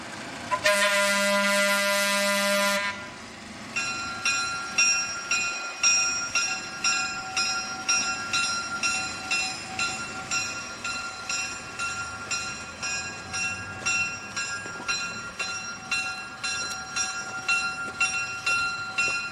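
A train horn sounds loudly at first, then a steady, rhythmic clatter of wheels over rail joints repeats as the train rolls along the tracks.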